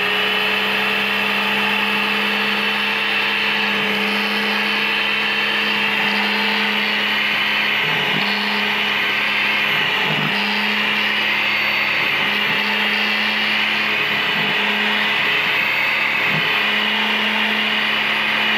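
A Foresta FT-11DS electric grass trimmer runs nonstop at close range, a loud steady motor whine with a constant pitch, dipping briefly now and then as the line meets grass.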